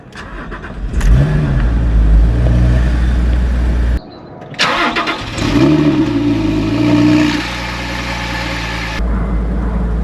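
Porsche Boxster with a real key and manual clutch cranks and fires, revs briefly, then quickly drops into a steady idle; loud and close, with a pause and a second start-and-rev before settling.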